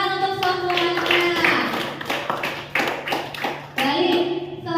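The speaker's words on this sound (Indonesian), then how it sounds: "Tepuk tangan untuk semuanya." Students clapping together in a classroom, irregular bursts of hand claps with brief gaps, while a voice speaks over the clapping at times.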